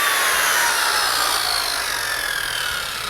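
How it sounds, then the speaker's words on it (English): A circular saw cuts through wood, a continuous high whining and hissing bite that eases slightly toward the end, with no talk. "he grabs his trusty circular saw and goes to work cutting the wood he needs to cut"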